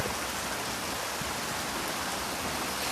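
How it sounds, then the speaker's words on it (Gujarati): Steady rain pours down over a village in Gujarat during the monsoon, a dense, even hiss of heavy rainfall with no voices, constant and close throughout. "વરસાદ ચાલુ થઈ ગયો હે"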